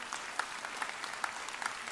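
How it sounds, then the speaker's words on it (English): A graduation audience claps steadily and densely throughout, a continuous wash of applause with scattered sharper claps standing out. "can we give them a huge round of applause?"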